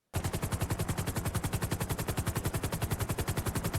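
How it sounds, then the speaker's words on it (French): Rapid machine-gun fire in a video game shootout rattles in a fast, even stream of shots that starts abruptly and carries on loud and unbroken. "nous avons pu filmer une fusillade se situant non loin du point M,"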